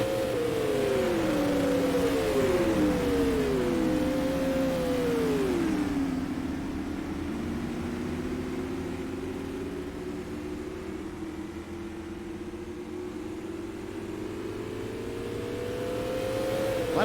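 Supermodified race cars roar and rev in a non-wing sim racing feature, a loud pitch-sweeping engine drone that shifts up and down through the gears, then settles into a steady, slightly distant hum.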